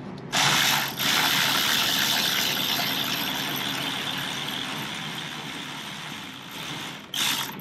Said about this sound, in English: What I'm gonna do is tighten up this adjuster until I start to feel it drag